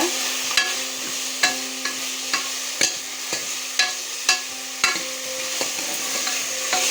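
Lamb shanks with turmeric sizzle steadily in a hot pan while a utensil scrapes and taps it at a regular rhythm, close and clear with no talking.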